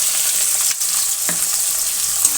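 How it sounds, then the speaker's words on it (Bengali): Chopped onions fry in hot oil in a pan for mutton curry with a dense, steady sizzle close by, broken by a couple of brief stirring knocks. "এখন আমি দিয়ে দেবো কুচিয়ে রাখা সেই পেঁয়াজগুলো"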